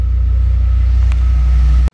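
Audi RS6 with the 5.0 V10 twin-turbo engine idling, a loud, steady, deep rumble with an even low throb, heard close up and alone before cutting off abruptly.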